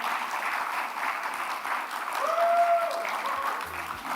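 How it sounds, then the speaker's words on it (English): An audience at a youth leadership conference session claps as the MC takes the stage, a steady crowd applause at moderate volume that swells slightly midway, with a faint tone and some low rumble underneath. "please clap for her"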